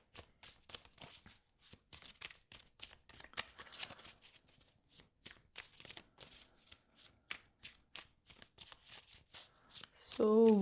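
Tarot cards are shuffled in quick repeated riffles and slaps, a close, quiet rhythmic flutter; near the end a louder voice speaks over it.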